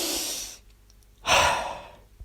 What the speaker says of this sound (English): the trite advice about taking a few deep breaths works